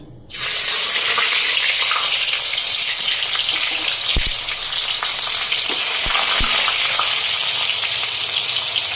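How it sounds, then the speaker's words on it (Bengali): Boiled cabbage pieces frying in hot oil in a wok, a loud, steady broadband sizzle starting abruptly and continuing throughout, with a few low knocks and bumps from the pan. "এখন এটা ফ্রাই করে নিব এদিকে কড়াইতেও তেল দিয়া দিছি"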